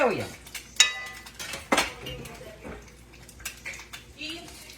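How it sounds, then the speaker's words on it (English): A spatula scrapes and clatters against a frying pan while an egg is turned over, giving a few sharp metallic knocks and scrapes up close amid ongoing kitchen clatter. "Let me get my egg turned."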